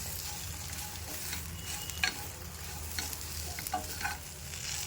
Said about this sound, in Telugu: ఇప్పుడు పచ్చి కొబ్బరి వేసేసుకున్నాం ఈ రెండు ఒకసారి బాగా కలుపుకుందాం